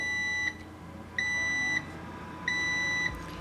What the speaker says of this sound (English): So it beeps 3 times and it shuts off,